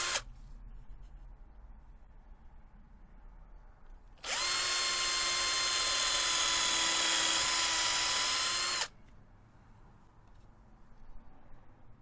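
A power drill bores starter holes into wood for a bird box, a loud steady high whine that holds for about four and a half seconds in the middle before cutting off, with quiet room tone on either side.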